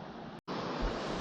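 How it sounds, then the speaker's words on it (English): Waterfall on a trout fishing river, a loud continuous broadband rush of falling water with a brief dropout early on. "Yeah, that's a waterfall."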